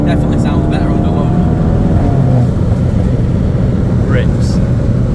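VW Golf Mk8 GTI with its OPF/GPF deleted, engine pulling hard under load as a continuous loud, dense roar from inside the car, with voices speaking over it.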